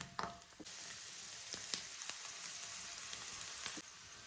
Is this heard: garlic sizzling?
yes